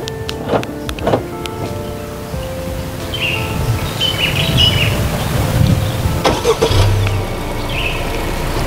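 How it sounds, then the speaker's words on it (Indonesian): A Honda Civic engine starts by remote starter and settles into a steady idle close by, with faint birdsong and a few light clicks around it. "Start dari remote-nya ini."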